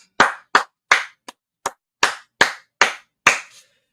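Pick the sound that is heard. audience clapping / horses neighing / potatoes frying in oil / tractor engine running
audience clapping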